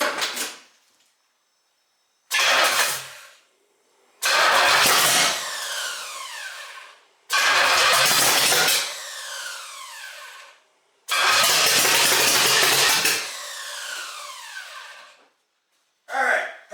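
A rebuilt 1968 Pontiac GTO engine on its first start after a complete drivetrain rebuild, with timing off, cranking in repeated long bursts that each run a couple of seconds and then stop, separated by pauses.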